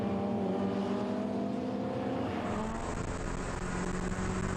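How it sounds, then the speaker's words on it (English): A loud, deep V8 engine of a BMW M3 GTR replica race car roars close by at Taupo Motorsport Park, holding a steady bellow before the pitch rises as it accelerates. "The bellowing V8 powered M3 GTR replica"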